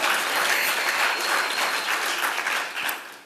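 An audience at a design talk claps together, with dense steady applause that fills the room and then thins out at the end.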